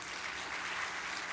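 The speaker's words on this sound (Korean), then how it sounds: "우리 박수로 한번 격려해 주시길 바랍니다." A church congregation applauds during a Sunday worship service, steady dense clapping filling the room throughout with no break.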